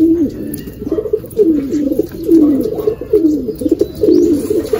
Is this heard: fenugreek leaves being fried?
no